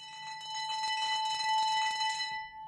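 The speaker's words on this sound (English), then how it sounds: "So you can have a bell or an alarm clock, just so." A synthesizer plays a bell or alarm-clock style tone, a steady bright ringing with a sustained pitch and a shimmering, rattling upper texture, fairly loud and alone for about two and a half seconds before fading.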